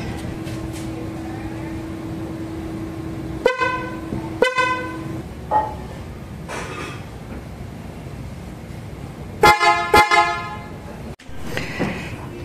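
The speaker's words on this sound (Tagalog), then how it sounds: "nakabit ko na yung busina" A PIAA Sports dual car horn fitted to a Chery Tiggo 5x honks in short, loud blasts, a couple of quick toots, then a longer burst near the end, over a quiet background hum.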